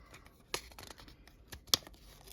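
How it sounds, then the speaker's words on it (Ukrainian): Quick crinkly tearing and rustling of thin paper or foil, with a couple of sharp rips, close and fairly quiet. "Відкриваю пакетик."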